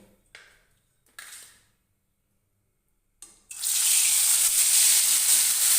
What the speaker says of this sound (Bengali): তেল ভালো মতন গরম হওয়ার পরেই কিন্তু মাছগুলো ছাড়বেন তাহলে আমি এবারে একে একে মাছগুলো ছেড়ে দেবো